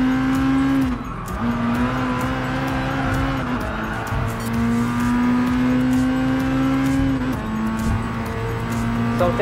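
An Amuse S2000 GT1 Turbo race car in Gran Turismo Sport overtakes on the inside, its engine droning steadily and loudly with shifting pitch and brief tire squeal, no talk over it.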